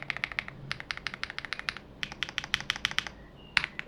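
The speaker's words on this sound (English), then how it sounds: "now let's get a bit closer to the keyboard, and we should have a sound test," Close typing on a Redragon K686 Eisa Pro mechanical keyboard with linear switches, a quick run of soft, even keystrokes with a short pause, no clicky sound, no talking.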